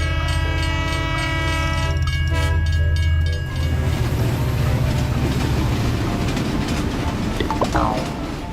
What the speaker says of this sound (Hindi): तभी स्टेशन पर ट्रेन आकर रुकी।